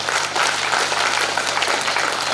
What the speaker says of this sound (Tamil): கைத்தட்டுங்கள்.